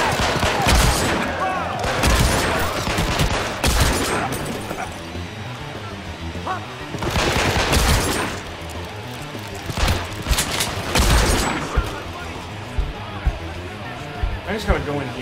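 Bursts of gunfire in the video game Hitman: Absolution during a bar shootout, loud clustered volleys separated by short pauses, with a voice talking over parts of it.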